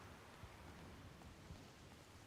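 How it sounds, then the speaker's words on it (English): Steady rain from the Pokemon Indigo Disk video game, a continuous hiss of falling drops with a couple of soft low thumps, even and unbroken throughout. "But while we wait for the rain to end,"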